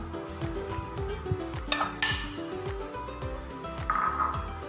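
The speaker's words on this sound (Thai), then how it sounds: "แล้วก็คลุกเคล้าเข้ากัน" Rhythmic scraping and clinking of utensils against a bowl while crispy pork skin salad is tossed with roasted chili paste and sliced shallots, with a few sharper metallic clinks.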